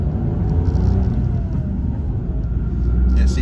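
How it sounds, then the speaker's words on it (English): A 2021 Mitsubishi Mirage accelerating, heard from inside the cabin as a steady low engine rumble with road noise that holds loud and even for the whole stretch. "one more little acceleration run"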